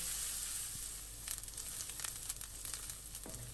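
Thinly sliced onions fry in a hot pan, giving a steady close sizzle with a few brief crackles and a light scrape near the end, and no talk.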